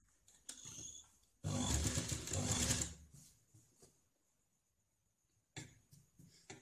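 A sewing machine stitches a strip onto a blouse in two runs, a loud close mechanical whir lasting over a second, then stopping, with faint handling noise between and a short restart near the end.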